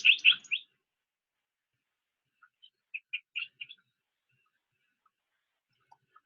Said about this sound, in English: Crimson-backed tanagers. And also that clay-colored thrush is on there too. A blue-gray tanager.